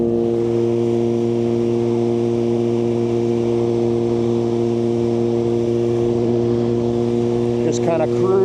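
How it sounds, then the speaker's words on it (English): A Suzuki GSX-R1000R with a loud Akrapovic GP slip-on exhaust drones steadily with a deep, even rumble while cruising at about 65 mph; a brief chirp or squeak near the end. "the Akrapovic GP slip-on is really pretty darn loud"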